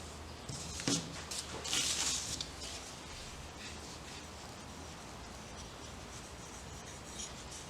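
A cloth soaked in ordinary acetone wipes down carbon fibre heel plates made for a Ducati 748. A couple of brisk rubbing strokes come near the start, then a softer, steady wiping texture follows.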